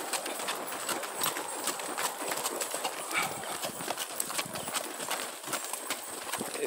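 Horses ridden along a ranch trail in Sinaloa clip-clop in a steady, continuous patter of hooves, several animals close by, with a faint background hiss throughout.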